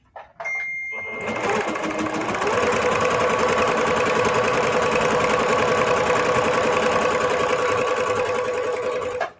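A sewing machine stitches quilted fabric in one long, steady run, close and loud with a rapid mechanical whir, starting after a brief click and stopping at the end.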